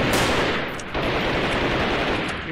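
Dense, continuous gunfire from a mix of weapons with a grenade blast in the guerrilla-warfare video game Freeman: Guerrilla Warfare, loud and unbroken across the whole stretch with no talk over it.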